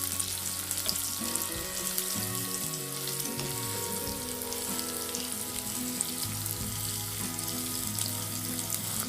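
Bitter gourd pieces frying in oil for a Kerala pavakka curry give a continuous close sizzle, with a low tonal hum and watery bubbling running underneath and no talking.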